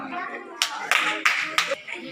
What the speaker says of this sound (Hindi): हाँ ठीक ताली बजाओ